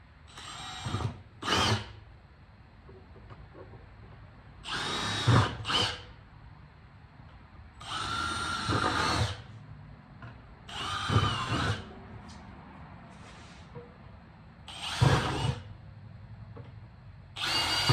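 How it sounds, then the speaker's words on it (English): A power drill bores holes into the bottoms of plastic chicken waterer containers, several short whining bursts separated by pauses, close and loud against a quiet background. "I'm going to go ahead and drill 4 holes in the bottom of them and then enlarge them"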